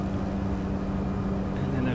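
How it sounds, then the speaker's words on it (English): Steady droning turboprop engine of a Cessna 208 B Grand Caravan in Microsoft Flight Simulator, running near full power with a constant low hum throughout, loud and unbroken. "I got the engine maxed out a little bit too much"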